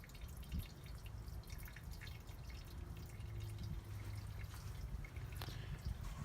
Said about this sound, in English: You'll notice our water draining slowly here.